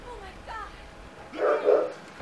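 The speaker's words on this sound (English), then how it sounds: "Hey, stop barking!" A dog barks a few times nearby, short loud yaps following some quieter whines, with a voice briefly audible.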